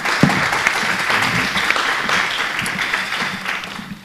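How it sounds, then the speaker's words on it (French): Forum audience applauding a speaker: a steady round of clapping from a seated crowd in a hall, even and sustained for a few seconds with no talk over it. "Merci Karim, on vous applaudit."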